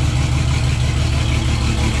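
A Traction fitted with a V12 bi-turbo engine runs steadily nearby, a loud, constant low rumble with no change in pace across the whole stretch and no voices.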